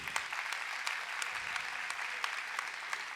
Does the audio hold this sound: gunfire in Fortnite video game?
no